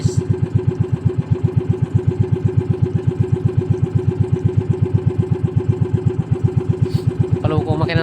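A motorcycle engine idles high with a fast, steady, close-up putter throughout, then a brief rising tone near the end.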